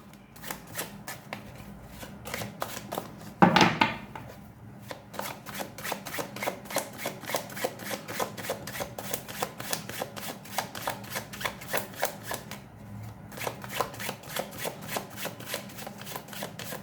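A tarot card deck is shuffled by hand over and over, with rapid papery riffles and soft slaps in a steady rhythm. The sound is close and continuous, with a brief louder handling noise near the start.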